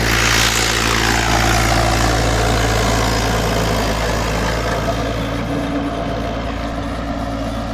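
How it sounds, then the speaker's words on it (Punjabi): A 575 tractor fitted with a 7-foot rotavator runs close by, its engine giving a steady, continuous low drone with no voices. "ਟਰੈਕਟਰ ਜੀ 575 ਮਗਰ 7 ਫੁੱਟਾ ਰੋਟਾਵੇਟਰ ਪਾਇਆ ਵਾ"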